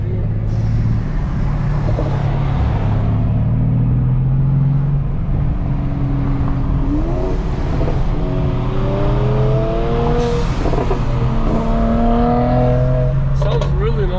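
A Mercedes-AMG C63 or C43 on its stock exhaust pulls up nearby, with a deep rumbling engine that rises and falls through revs. Talking continues over the engine throughout.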